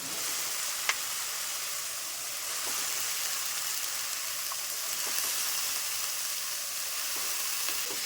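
Shredded cabbage fries in turmeric-spiced oil for a Bengali vegetarian ghonto, a steady hissing sizzle like light rain with a few faint ticks of the spatula.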